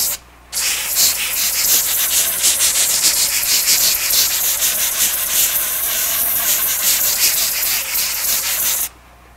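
A J-Flex sanding belt grinds steadily against knife handle scales for about eight seconds, a loud continuous abrasive rasp with slight rhythmic pulsing as the handle is rounded, starting and stopping abruptly.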